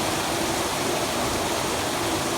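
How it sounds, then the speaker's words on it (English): Rainwater overflowing gutters during a thunderstorm, a dense, steady rushing and splashing roar with no breaks, close by. "Water overflowing the gutters everywhere."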